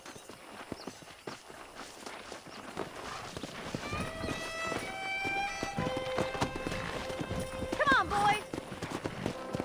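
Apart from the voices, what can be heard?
wild horses galloping and neighing in video game Red Dead Redemption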